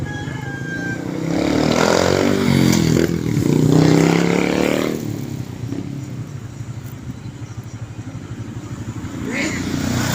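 A motorcycle engine runs close by, rising in a revving sweep before settling into a steady hum, with voices talking over it.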